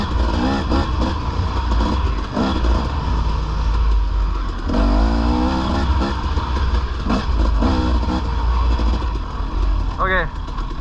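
Dirt bike engine pulling away in 4th gear at the Tomahawk trailhead, a steady low throbbing drone with a gradual rise in revs, close and continuous, with voices talking over it.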